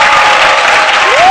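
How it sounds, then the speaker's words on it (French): Studio audience applause on a French-language RTI 1 midday TV show, a steady dense wash of clapping throughout the short burst with no voices over it. "on vous salue avec des applaudissements"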